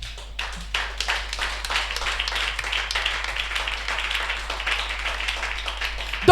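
A church congregation claps and applauds during a French-language service, a dense run of sharp handclaps at steady loudness with no talking over it.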